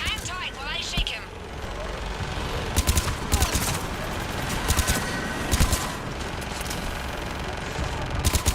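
Gunfire in Mass Effect: Legendary Edition, with rapid bursts of shots that crack out repeatedly against a busy, noisy combat background, loud and close throughout.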